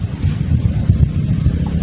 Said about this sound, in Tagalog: Ayan, mahangin na mga dods.